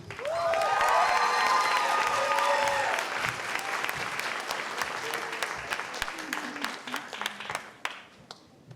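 Loud, dense applause from a large graduation audience welcoming the master of ceremonies, steady for several seconds with some cheering, then gradually thinning out as it fades toward the end.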